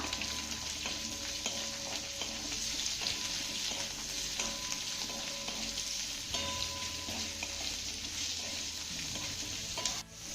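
Sliced onion frying in a pan makes a continuous bright sizzle, broken by repeated scraping stirs at an even pace, close and moderately loud.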